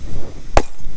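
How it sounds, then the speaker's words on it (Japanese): An old Fanta glass bottle, about fifty years old, is smashed once outdoors: a single sharp, loud breaking crack in the middle, with quiet ambience around it and no talk. "このファンタは割ってここの中に入れます。"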